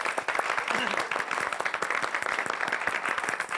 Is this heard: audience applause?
yes